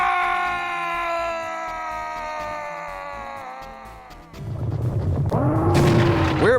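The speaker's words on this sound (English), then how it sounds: "The famous kamikaze scream has long been suggested to be the recorded voice of Roman Rabarik" A long scream from a kamikaze enemy in the Serious Sam: First Encounter video game, held steady and loud for several seconds, then giving way to a heavy booming blast with a sharp noisy burst.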